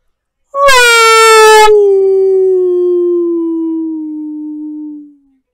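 A human voice imitates a dog or wolf howl: one long, loud, close howl that starts strong and slowly falls in pitch and fades over several seconds, alone against silence.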